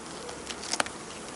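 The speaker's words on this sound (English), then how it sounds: "Make sure you don't hit any of the bees." Bees buzz around a beehive frame during hive inspection, a soft continuous hum with one brief louder click or tap in the middle.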